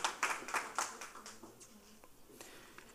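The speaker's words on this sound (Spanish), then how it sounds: "reiterados aplausos para el equipo ganador en la categoría 4" Scattered handclaps at a virtual awards ceremony for the winning team, a few loud, distinct claps at first that thin out and fade into sparse, quieter claps, recorded close and small-scale rather than as a large crowd.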